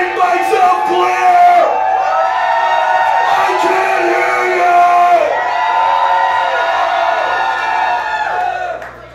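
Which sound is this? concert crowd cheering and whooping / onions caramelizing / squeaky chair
concert crowd cheering and whooping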